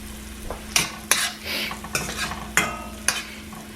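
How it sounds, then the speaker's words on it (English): Garlic simmers on low heat in a pan while a utensil stirs it, giving sharp scraping clinks against the pan over a steady soft sizzle, close and without voices. "And just simmer this down on low."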